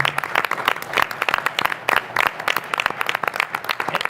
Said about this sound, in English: you deserve the round of applause here to wrap us up here.